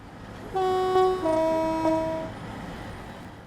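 A Class 37 diesel locomotive in the Train Sim World 5 game sounds a loud two-tone horn, a couple of sustained blasts, over a low running rumble before fading back to engine noise.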